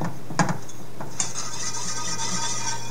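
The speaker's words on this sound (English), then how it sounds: "And so you kind of add a little bit at a time and you whisk it." Brown sugar being whisked into melted butter in a pan off the heat, with a few metal clinks of the whisk against the pan over a steady soft scraping and a faint background hum, close up.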